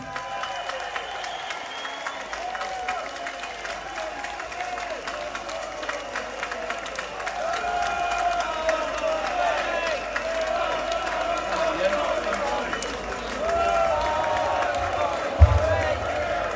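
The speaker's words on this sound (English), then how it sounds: "let's have a round of applause for Tommy Robinson." A crowd at an anti-grooming-gangs street march in London applauds and cheers, a broad wash of clapping and voices that grows louder partway through, with speech mixed in.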